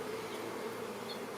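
Honey bees hum in a steady, soft, close drone over an opened hive, a brief higher buzz passing through, with no talking.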